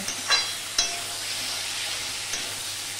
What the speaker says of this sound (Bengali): এবার সম্পূর্ণটা আমি ভালো করে মিশিয়ে নেব